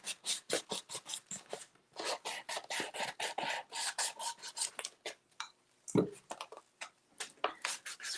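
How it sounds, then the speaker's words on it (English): Scratchy rasping strokes on a brand-new craft item being distressed, coming in quick repeated bursts close by for about eight seconds, with a brief louder knock near the middle. "adding scratches to it"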